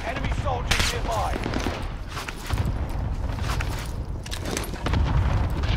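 Video game gunfire crackles in rapid bursts and scattered single shots at close to mid distance, dense and continuous, with brief in-game noise layered over it.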